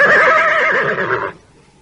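A horse neighing as riders pull up on the reins, one loud close wavering whinny that lasts just over a second and then cuts off to near silence.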